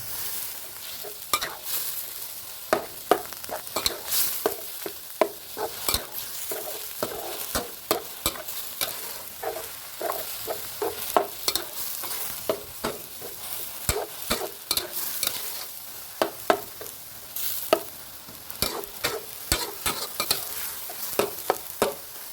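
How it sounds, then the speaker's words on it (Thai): Minced pork and baby corn stir-fried in a pan with water added, a steady close sizzle broken by frequent sharp scrapes and clacks of a spatula at an uneven rhythm, no voices. "เดี๋ยวเราจะใส่ข้าวโพดอ่อนลงไปผัดด้วย"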